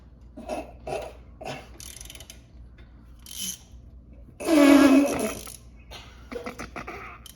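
Ratchet working on the front brake bolts of a 1984–2001 Jeep Cherokee, giving a few short clicking bursts and then one louder, sustained grinding ratchet run mid-clip, close up with no talk.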